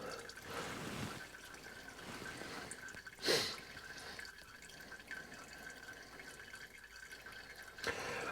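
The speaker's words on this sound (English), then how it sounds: "There, we can just let it dribble." Brake fluid dribbles from the bleeder on a 2005 Ford F-350 during a brake bleed and flush, a faint trickle with a few soft drips against quiet shop background.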